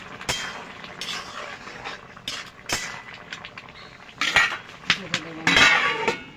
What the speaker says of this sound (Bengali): আমি কুমড়ো বড়িগুলো এবার দিয়ে দেবো।